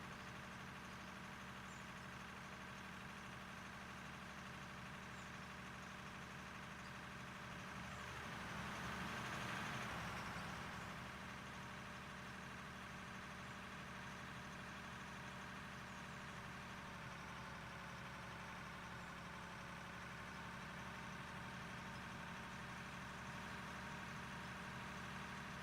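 A vehicle engine idles in the mining game Out of Ore, a steady low hum that swells slightly midway, faint and continuous with no talking.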